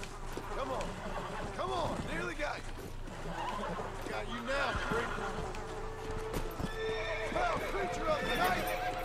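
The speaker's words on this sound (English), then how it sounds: "Run away, stupid horse." Horse neighing and whinnying with clip-clopping hooves amid zombie-survival game action in Red Dead Redemption: Undead Nightmare, repeated whinnies over steady hoof beats and background game noise, with someone talking over it.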